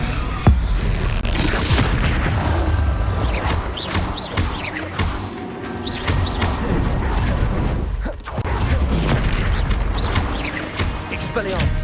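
Spell-casting combat in Hogwarts Legacy, with the Expelliarmus disarming spell cast repeatedly: loud booming magical blasts, thuds and crashes land in quick succession over dense, continuous battle noise, with a voice shouting along.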